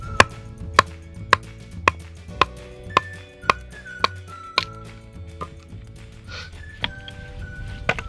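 A full-tang knife of 1095 high carbon steel from Tops Knives is batoned through wood outdoors, giving a row of sharp, evenly spaced thwacks about twice a second, close and loud over a faint ringing background.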